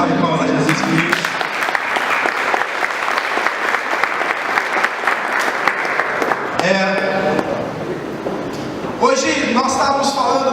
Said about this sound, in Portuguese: salve de palmas a Jesus Cristo